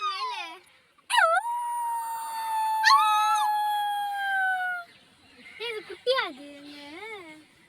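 A wolf at the Mysore zoo lets out long, wavering howls that rise and fall over several seconds, with people chattering and calling nearby.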